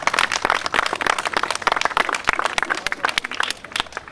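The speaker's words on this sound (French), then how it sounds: "On peut applaudir mon assistant" Dense applause from a street-performance audience, a steady wash of many hands clapping at moderate loudness that eases slightly toward the end.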